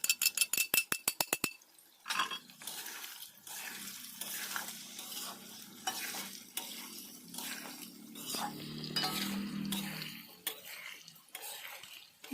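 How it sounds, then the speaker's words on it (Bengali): Spices, turmeric, chili powder and salt, being stirred into amla frying in a pan for a spicy-sweet pickle, with rapid clinking and scraping at first, then steady sizzling and repeated spoon scrapes. "এখন এর মধ্যে হলদি পাউডার, লঙ্কা পাউডার আর লবণটা দিয়ে ভালোভাবে নাড়াচাড়া করে নেব"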